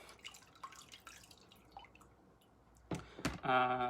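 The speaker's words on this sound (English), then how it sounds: "Rinsing the rest of it off." Water rinses a body scrub off a hand indoors at a basement coffee table, with faint scattered drips at first, then a closer burst of splashing and running water near the end.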